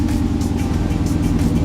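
A Dodge Challenger idles after a winter start on a block-heated engine, giving a loud, steady, low rumble with a quick pulsing rhythm, close and continuous, with no voices.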